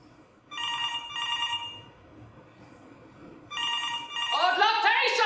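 An office telephone rings in two bursts of a bright electronic trill, pauses, then rings again while a raised voice cuts in at the end.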